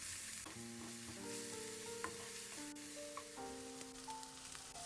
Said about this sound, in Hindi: अब एक कढ़ाई में 1/3 कप ऑयल को गर्म कर लेंगे और उसमें बारीक कटी हुई 2 मीडियम साइज की प्याज को बारीक चॉप करके इस तरह से शामिल कर देंगे